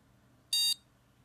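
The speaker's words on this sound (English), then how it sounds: "anytime I press reset, I get a satisfying beep, just like an Apple IIe" An Adafruit Circuit Playground board plays a single short, bright electronic beep styled after the Apple IIe startup tone, lasting about a quarter second against quiet background hiss.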